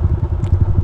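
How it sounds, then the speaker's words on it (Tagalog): Motorcycle engine rumbling steadily and close during a twisty mountain road ride on Marilaque in the Philippines, with low pulsing thumps and no talk. "Ganito na kasi ako sumakay ngayon sa motor."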